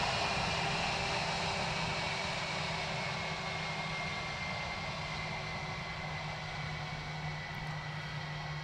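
An aircraft circles near Dublin Airport, its engine a steady distant drone with a broad rumble that holds constant throughout, faint and uninterrupted by any voices.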